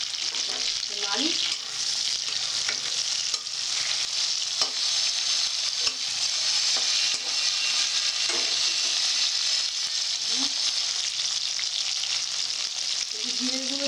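Spices and ground ginger paste sizzle steadily in a pan for a Bengali chhanar dalna, with intermittent scraping stirs of a spatula heard over the constant frying hiss, close and fairly loud.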